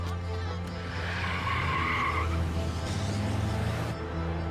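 Car tires skid and squeal in a tense TV drama scene, a loud sustained screech running through most of the moment over a rumbling engine, with no talking.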